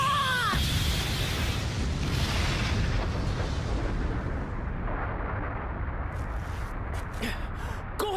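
A huge anime energy blast explodes in a Dragon Ball Heroes battle, a roaring, rumbling boom that swells and churns loudly throughout, then thins out with sharp crackling bursts near the end.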